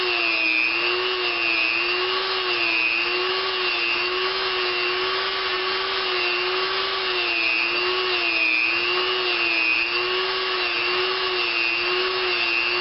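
A Rolex Submariner bezel being polished with polishing compound gives a steady, continuous motorized whine, loud and close, holding an even pitch throughout with no talking.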